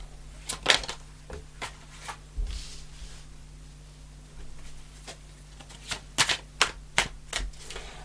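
Tarot cards being shuffled and drawn, with scattered soft slaps and flicks of cards landing on a surface, close and fairly quiet over a low steady hum, no talking.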